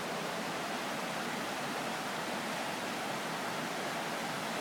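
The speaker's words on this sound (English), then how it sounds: "that's the waterfall" A waterfall roars in a steady, dense rush of falling water heard on a countryside walk, continuous and even with no voices.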